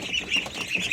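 Three-week-old ducklings at a small farm in the evening, a steady overlapping chorus of high peeping calls, close and continuous with no talk.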